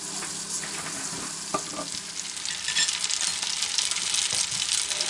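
Small roach fish fry in oil in a pan, giving a steady bright sizzle that swells and crackles louder after a few seconds, with occasional light clinks of a utensil and no talk.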